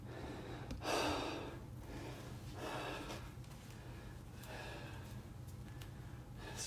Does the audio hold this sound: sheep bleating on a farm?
no